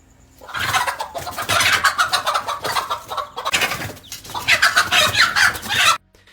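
A mother hen confronting a cobra gives loud, agitated clucking in rapid repeated bursts, close and continuous across two long runs with a short pause between, then stops abruptly.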